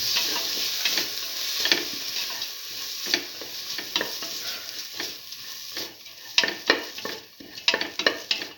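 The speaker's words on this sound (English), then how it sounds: "Thoroughly saute mix." Black gram lentils (urad dal) sizzle steadily in a pan while a spoon stirs and scrapes through them, with sharper clinks and scraping strokes growing more frequent toward the end.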